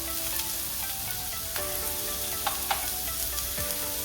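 Carrots and beans fry with softened onions in a pan, making a continuous close sizzle punctuated by light clicks and taps from stirring.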